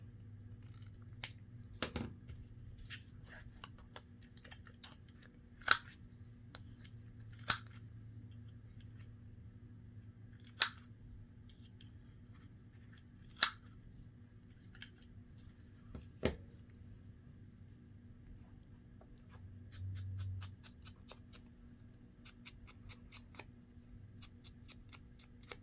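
Scissors snip through patchwork fabric in a series of separate, crisp cuts spaced a few seconds apart over a quiet room background, with a quicker run of small clicks toward the end.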